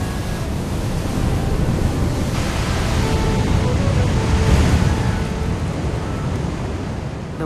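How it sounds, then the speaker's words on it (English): Released water of the Tallulah River roars through Tallulah Gorge, a loud, unbroken broadband rush that holds steady throughout with no talking. "The waters of the Tallulah River, set free for only a few hours at a time, offer an awesome display."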